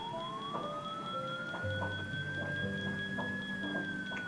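A SCADA alarm sounds once a tank level reaches 82 percent: a steady, faint high electronic tone rising slowly in pitch and holding, with soft background hum and no talk.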